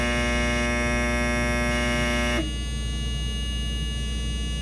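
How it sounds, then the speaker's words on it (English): Potain HUP tower crane starting up: a loud, steady electrical hum with buzzing tones that drops abruptly into a lower, rougher motor drone midway. "We're going to start the crane up here."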